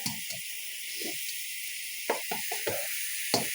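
Mushrooms and onions being stirred in a frying pan, a soft background sizzle broken by several short scraping, clattering strokes of a utensil against the pan, fairly quiet and close.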